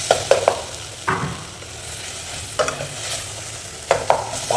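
Kadappa gravy mixed with mashed potato is stirred in a pot, with repeated scraping spoon strokes over a steady background sizzle of frying, close and fairly loud.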